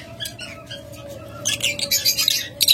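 Lovebirds at a bird farm chatter and squawk in shrill bursts, quieter at first and then growing louder and denser as several birds call at once over a low background hum.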